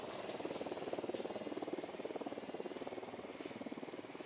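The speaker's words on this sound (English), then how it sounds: "Deploying drone." Drone deployed in the Ghost Recon video game hovers close by with a steady, fast-pulsing rotor buzz that holds evenly for the whole stretch.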